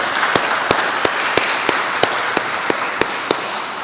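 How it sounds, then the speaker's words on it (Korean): Church congregation in a Sunday service applauding for the children's and infant departments' performers and teachers: a dense, even wash of clapping with a few sharp, regularly spaced louder claps standing out, steady throughout. "우리 박수 한번 하겠습니다"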